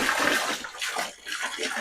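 Water splashes and gurgles as it is poured out for farm animals to drink in a village yard, close and fairly loud, in uneven bursts that swell and ease, with no talking.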